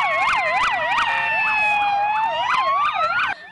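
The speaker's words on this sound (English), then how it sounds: "speeding ambulances and police patrol vehicles with screaming sirens" Police patrol vehicles and ambulances race past with screaming wailing sirens during a post-bomb-blast training exercise near a stadium in Kireka, several sirens overlapping loudly and continuously.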